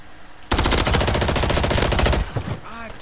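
A rapid, loud burst of machine gun fire in Modern Warfare 3, roughly two seconds of dense automatic shots up close, followed by a brief tail and a voice speaking.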